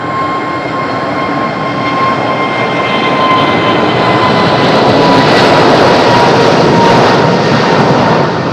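A jet airliner roars down the runway on takeoff at Madeira Island Airport on a windy day, a loud, broad engine rumble that builds steadily and holds near and powerful without any voices.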